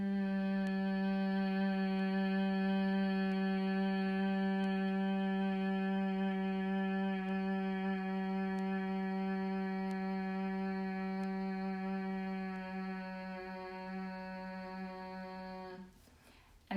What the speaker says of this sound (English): the buzzing sound naturally lengthens the exhalation slightly